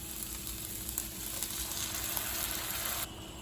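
Ginger garlic paste sizzles steadily in a hot pan for rajma curry, a dense, even frying hiss with faint scrapes and stirs running throughout. It cuts off abruptly near the end.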